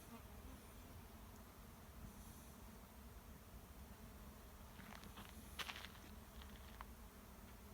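Bees buzz steadily near beehives in the background, with a few brief, brighter bursts of sound standing out midway through.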